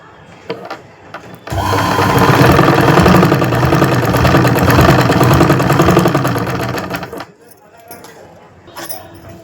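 Sewing machine stitching cloth for a handmade bag, running loud and steady for about six seconds with a fast rhythmic whir, with quieter handling noises before and after.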